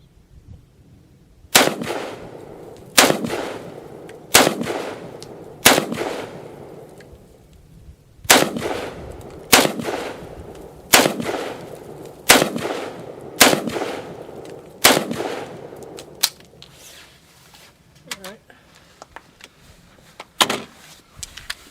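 Repeated rifle shots from a C93 Sporter at an outdoor range, about a dozen sharp cracks spaced a second or two apart in loose groups, loud and close, each with a short echoing tail, no talking.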